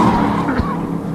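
Race cars roar around a short oval speedway at Lee USA Speedway in New Hampshire, a steady loud engine drone with a brief swell as a car passes, no voices.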